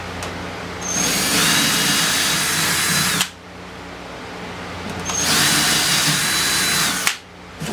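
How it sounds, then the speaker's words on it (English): A power drill bores through wood, running loud and steady for about two seconds, stopping, then boring again for another two-second burst, with a high whine over a grinding, chewing texture. "I can drill all the way through"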